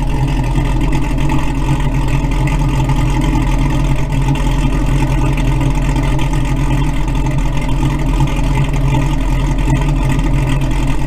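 An old car engine that sat unused for fifteen years runs steadily and warms up, a constant low idling rumble filling the space with no break and no talk.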